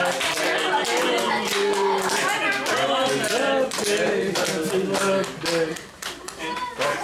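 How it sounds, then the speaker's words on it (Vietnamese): An audience claps along, with scattered quick hand claps running under a talkative, energetic voice that dominates the foreground. "Vỗ tay luôn nha, vỗ tay luôn nha."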